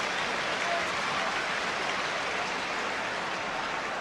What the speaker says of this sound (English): The applause from the crowd was for Shilton's save.